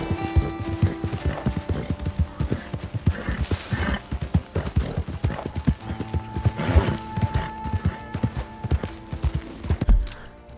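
A mare galloping in Red Dead Redemption 2, rapid loud hoofbeats in a steady rolling rhythm with occasional snorts and a neigh, plus scattered game sounds.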